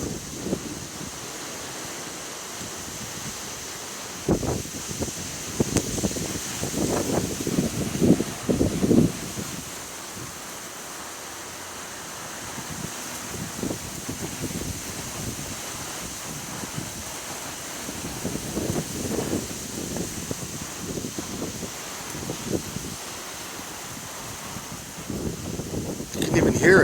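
Strong wind gusts in Boca Raton, Florida roar and buffet the microphone in uneven surges across the whole stretch, with someone talking intermittently over the blustery noise.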